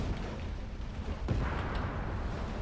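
A single deep tank cannon boom in a video game cuts through a steady rumbling background, followed by a lingering low roar.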